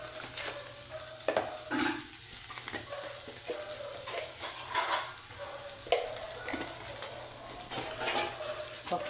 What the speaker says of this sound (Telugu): బట్ బిఫోర్ దట్ దీంట్లో ఆవాలు జీలకర్ర కూడా వేసేద్దాం